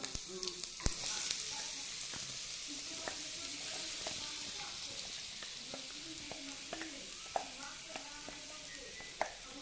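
Oil sizzles steadily in a pan as chutney is sautéed, with occasional sharp clicks and clinks of a utensil stirring.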